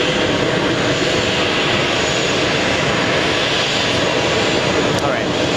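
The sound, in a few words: JetBlue jet airliner at JFK airport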